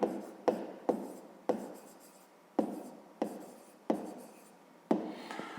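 Pen strokes on paper during a maths exercise, a series of short scratchy scribbling bursts roughly every second, close and fairly quiet, with no talking.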